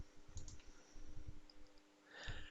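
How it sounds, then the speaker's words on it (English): Mouse clicks while modeling in Fusion 360, a few faint, crisp taps spaced apart in a quiet room with soft breathing in the background. "and we're going to click that."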